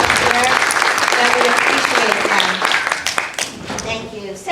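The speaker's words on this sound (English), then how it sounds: "can we give them a really big rousing round of applause so they can hear that" Audience applause at a membership meeting in a civic center, loud and sustained for about three seconds before thinning out, with voices talking over it throughout.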